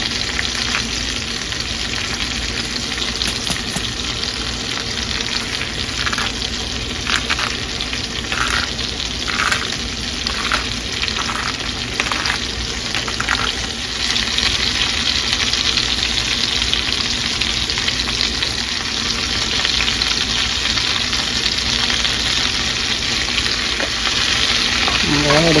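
Cabbage frying in a pan with salt, a steady loud sizzle throughout while the leaves are tossed and stirred, with scraping bursts partway through and no talking.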